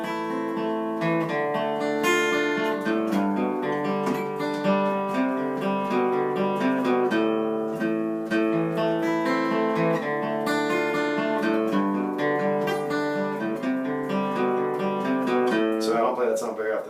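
Guitar arpeggios playing the opening chords of a song, picked note by note in a steady flowing pattern, clear and up close with no talking.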